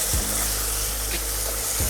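Minced meat sizzles and browns in a very hot pan, a dense, loud, continuous frying hiss with a few faint scraping bumps from stirring.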